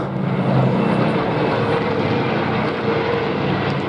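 A Spitfire fighter plane makes a low, fast pass at an air show, its piston engine a loud, dense roar that stays strong throughout.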